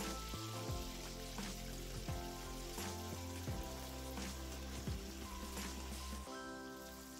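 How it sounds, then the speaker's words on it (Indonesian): Eggplant and tofu frying in hot oil, a steady crackling sizzle that runs throughout, faint and continuous, with occasional clinks of a utensil and a low background tone. "Nah sekarang kita goreng terlebih dahulu terong beserta tahunya."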